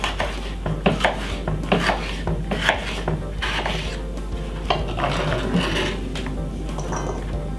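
A knife slices yellow and green peppers on a board, rapid rasping cuts and scrapes repeating close up in an irregular rhythm, with no talking.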